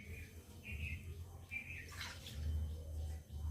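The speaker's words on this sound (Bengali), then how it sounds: "এখন কড়াটা একটু ভালো করে ধুয়ে নেব।" A karai is washed with water at a sink, making soft running and splashing sounds with low clatter, close by and fairly quiet.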